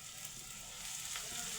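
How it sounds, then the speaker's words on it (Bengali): Chopped onions frying in oil on a stove, a soft, steady low sizzle heard close but quiet, with faint stirring and no voices. "পেঁয়াজগুলো একটু ভেজে নিচ্ছি"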